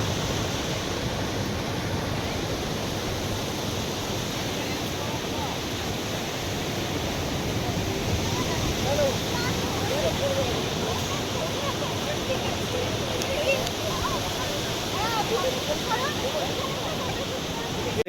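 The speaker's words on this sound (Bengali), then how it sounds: "এখানে সমুদ্রের ঢেউটা দেখো শুধু," Sea waves at Puri Golden Beach, a quiet and secluded stretch of shore, make a continuous broad roar of surf that stays even and full from start to finish without clear breaks.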